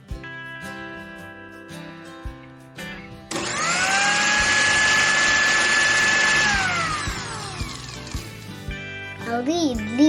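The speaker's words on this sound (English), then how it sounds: "Now let us grind this in mixie" A mixie grinder whirs loudly for about three seconds while grinding soaked batter for dosa and idli, preceded by clinks and handling noises, with a voice and other sounds at the start and end.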